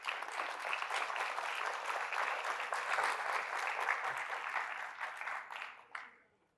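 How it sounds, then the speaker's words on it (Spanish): An audience at a health-policy presentation applauds in honour of Professor Manuel Elkin Patarroyo, a dense, steady round of clapping lasting several seconds before it thins out and dies away. "Pido un aplauso para él, por favor."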